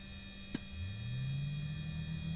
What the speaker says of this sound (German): Und hier unten haben wir noch einen Schalter für den Ventilator.